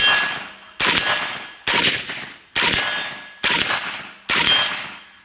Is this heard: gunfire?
yes